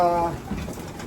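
Racing pigeons cooing briefly at close range, with a voice speaking over the birds.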